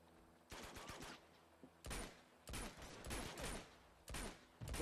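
Bursts of gunshots in the video game Uncharted 2, rapid volleys in short clusters separated by quiet gaps, fairly faint overall with the last burst loudest.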